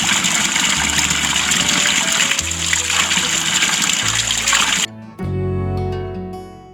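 A mountain stream at Panchganga on the Rudranath trek in Uttarakhand rushes and splashes steadily, close and continuous, before giving way to a quieter trickle near the end.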